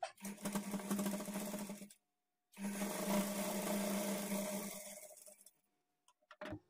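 A sewing machine runs a kinari stitch along a blouse edge, with two close, steady runs of stitching separated by a short pause, then a few soft clicks as it stops.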